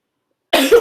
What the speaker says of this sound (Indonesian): Maaf, saya lagi batuk.